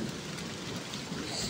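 Heavy rain pours down outdoors during a storm with hail falling, a dense, constant wash of noise filling the short moment with no talk.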